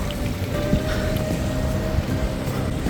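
Mountain stream water rushing along the Valley of Flowers trek, a dense steady broadband wash close by, continuous without break and no voices.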